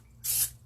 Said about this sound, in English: So let's just spray it really well.